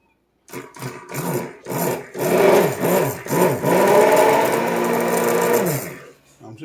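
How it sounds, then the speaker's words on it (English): A plugged-in stick blender whirring through baconaise, several short pulsing bursts followed by a long sustained buzzing run that winds down, loud and close. "Let me plug in my stick blender."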